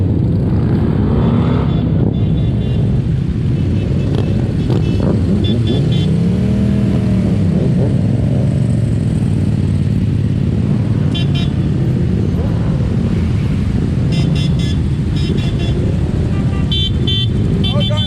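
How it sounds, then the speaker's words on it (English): Motorcycles at a charity Santa ride for Bear Cottage, engines rumbling and revving loudly close by amid traffic, with a horn toot and people talking throughout. "Give it a rev!"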